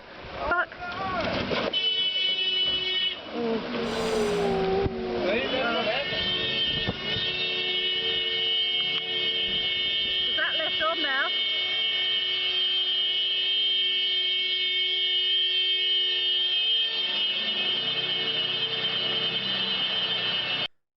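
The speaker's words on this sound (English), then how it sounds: "Why are the horns going off? Is that the horns on the vehicle?" Vehicle horns blaring in a sustained, steady tone during an off-road drive on the Old Telegraph Track at Gunshot Creek in Australia, loud and close, with brief speech and engine noise underneath.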